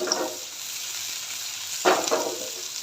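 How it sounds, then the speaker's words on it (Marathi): Finely chopped onion frying in oil as it browns, a steady soft sizzle throughout with a brief louder burst of stirring near the end, no talk. "मी एक बारीक चिरलेला कांदा ॲड करते तोही सोनेरी रंग येईपर्यंत परतून घ्यायचा आहे तेलावर"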